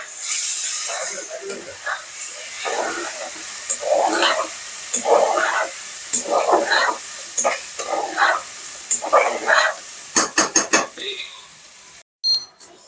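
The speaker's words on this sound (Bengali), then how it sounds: "এই যে মাংসটা কষানো হচ্ছে আর লাউগুলা দিয়ে দিচ্ছে" Meat sizzles as it is sautéed with cumin and coriander powder in a pan. Spatula scrapes and stirring clatter come in bursts, with people talking throughout.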